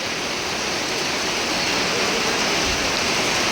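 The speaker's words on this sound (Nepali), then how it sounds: "फेरि पानी परेर है," Rain pours steadily in a market area, a continuous dense broadband hiss without breaks, loud and near, with no voices.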